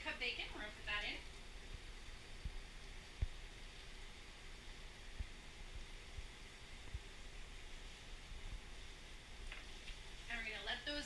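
Thick-cut bacon sizzles and crackles in a pan as a constant hiss that fills the whole stretch, with a few faint pops and clinks.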